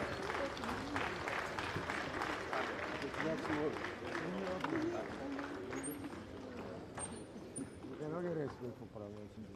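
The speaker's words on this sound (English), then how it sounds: "That applause is too low key." An audience at an official event welcoming Sierra Leone's vice president gives subdued applause, a soft, scattered patter of clapping running beneath voices talking and calling out throughout.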